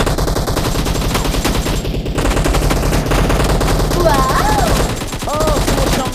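Rapid automatic gunfire rattles nearly nonstop in a video game team deathmatch, dense and loud for several seconds, with brief pauses and game sound effects near the end.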